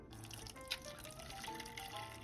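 A coffee jelly mixture, dissolved gelatin with a spoonful of lemon juice stirred in, is poured from a pan into a mold, making a steady, soft liquid trickle with a small splash near the start that lasts a couple of seconds.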